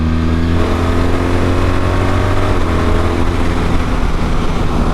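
A BMW 1300 GSA motorcycle engine pulls hard under acceleration, the loud, close exhaust note climbing in pitch as the bike picks up speed, with no voices over it.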